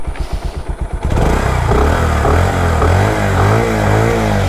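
A new-model Bajaj Pulsar motorcycle cranks in short pulses for about a second, then the engine catches and runs loud and close. Its steady, smooth drone rises gently with light throttle.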